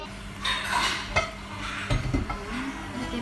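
A frying pan and utensils clatter and scrape in a home kitchen while preparing a small rice roll with tuna, onion and mayonnaise; a few close metallic knocks over a faint low hum, with no talking.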